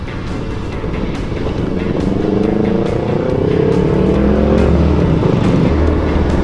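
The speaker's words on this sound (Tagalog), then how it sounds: "Palagpasin muna natin ng konti yung motor." A motorcycle, an FKM Ranger 150, drones steadily and grows louder as it approaches and passes close by, a low rumbling roar with rising pitch.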